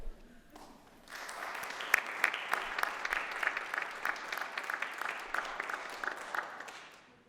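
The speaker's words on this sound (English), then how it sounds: "might I ask those guests to stand and receive our applause?" An audience at a university morning session applauds as honored guests stand, a dense patter of many hands starting after a brief quiet moment, steady and fairly close, then fading out.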